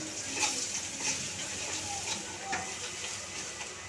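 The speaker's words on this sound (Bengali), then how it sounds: "হলুদ গুঁড়ো, লঙ্কার গুঁড়ো আর ধনে গুঁড়ো আমি একবারে দিয়ে দেবো। দিয়ে একটু নাড়াবো।" Turmeric, chili and coriander powder being stirred into hot oil in a frying pan while cooking a rui fish curry with potato and pointed gourd, a soft steady sizzle with faint scraping stirs.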